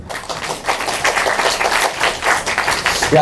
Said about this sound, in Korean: 당원 여러분 박수 한번 주십시오